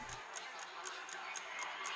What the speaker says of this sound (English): I hear a clock on my wall.